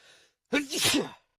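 Cartoon-style sneeze sound effect for a manga character: a short breathy intake, then a loud bursting sneeze that trails off, heard alone.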